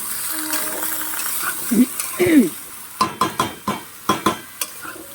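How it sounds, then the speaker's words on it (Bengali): Hyacinth beans being stirred in a frying pan, with a soft sizzle under a run of sharp, rhythmic clinks of the spoon against the pan, close and clear, and a few faint tonal sounds early on. "এবার সিমটাকে ভালো করে নাড়তে হবে"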